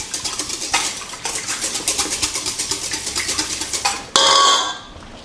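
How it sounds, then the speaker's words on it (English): An egg being beaten in a bowl with a small whisk, rapid rhythmic clinking taps against the side, close and steady, ending in a brief louder scrape. "Little whisk."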